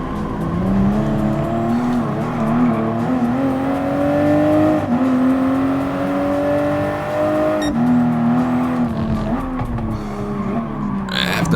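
A Toyota GR Supra RZ in Gran Turismo Sport drives with a loud, continuous engine note that rises and falls through gear changes and revs. Tyre squeal and skidding can be heard at times across the whole stretch.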